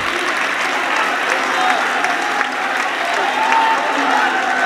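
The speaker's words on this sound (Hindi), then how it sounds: "जोरदार तालियां साथियों" Enthusiastic audience applause after a song at a poetry and music gathering, a loud, dense and even roar of many clapping hands sustained throughout.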